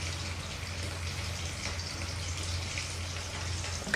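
Steady rain falls outside a home during a power cut, a dense, even hiss of drops that stays constant throughout, with a low electrical hum beneath it.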